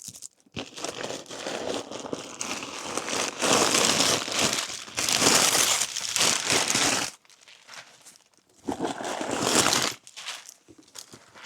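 Plastic or paper stuffing crinkles and rustles inside a structured zip-top bag from a Temu haul, with a long, close, dense scrunching that runs steadily, pauses briefly and then returns in another burst.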